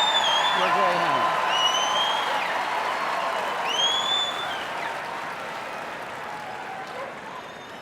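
Applause and crowd noise from the audience at the Hound Group judging of the Westminster Dog Show, a steady clapping wash that slowly fades, with whistle-like calls and voices above it.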